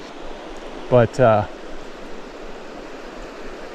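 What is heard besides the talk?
Resplendent Creek flowing, glacial mountain creek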